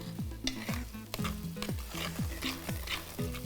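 Masala paste for a fish curry fries in hot oil in a pot, sizzling steadily as a spoon stirs it in repeated sweeping, scraping strokes, close and continuous, with no talking.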